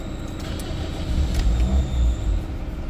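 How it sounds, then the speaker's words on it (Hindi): Toyota Corolla engine turning over in a workshop with a cranking or no-start fault, a low steady rumble that swells briefly in the middle and then settles, with no talking. "मैंने गाड़ी स्टार्ट की, बंद हो गई।"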